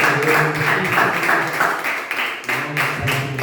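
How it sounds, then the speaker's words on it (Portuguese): Applause from a church congregation during a worship service, a steady rhythmic patter of many hands that rises and dips slightly, with faint voices mixed in. "Vamos dar uma salva de palmas ao"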